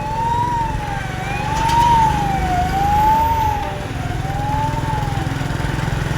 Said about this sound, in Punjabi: ਐਂਬੂਲੈਂਸ ਆਉਂਦੀ ਹੈ ਭਾਈ